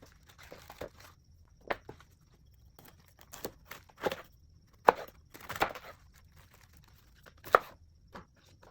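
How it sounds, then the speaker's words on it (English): Irregular crisp chopping and crunching as a knife cuts through cabbage, scattered sharp cuts with quiet pauses between, close by. "I'm cutting the cabbage in half and removing the core."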